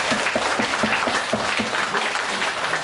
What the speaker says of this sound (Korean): 여러분들에게 큰 박수를 올려드립니다